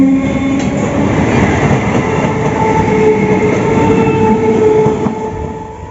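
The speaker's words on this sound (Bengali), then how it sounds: "ট্রেন পৌঁছালো এই জাস্ট আসলো ট্রেনটা" A train rumbles steadily into a station, wheels and carriages clattering close by, the noise easing slightly as it slows near the end.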